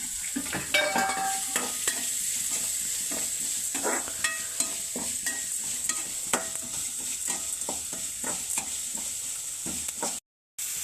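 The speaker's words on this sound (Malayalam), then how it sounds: "ഇതിൽ നമുക്ക് സവാള ഇട്ട് കൊടുക്കാം നല്ലൊന്ന് മിക്സായി കൊടുക്കണം" Onions stir-fried and tossed in a pan, with a steady sizzle and frequent scraping, stirring clicks, no talking, and a brief dropout near the end.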